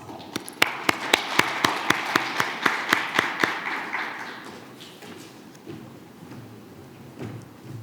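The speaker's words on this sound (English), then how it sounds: "Please welcome her to the stand with a warm round of applause." A ceremony audience claps in a brief burst of about a dozen distinct, evenly spaced claps, moderately close, then fades into soft room noise and scattered taps.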